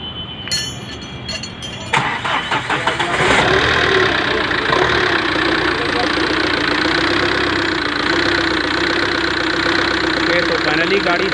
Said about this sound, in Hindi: तो अभी करते हैं इस कार को स्टार्ट।